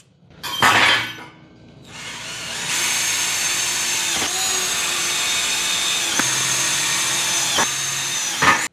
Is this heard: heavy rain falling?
no